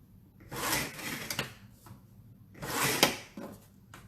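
Paper being trimmed with scraping, rasping strokes in two main bursts, each about a second long, with a few shorter scrapes between them, close and moderately loud with no talking.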